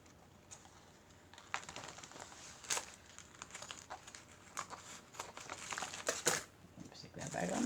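Homemade washi tape is snipped and handled at close range, giving soft crinkly crackles with a few sharper snips and louder rustles scattered through.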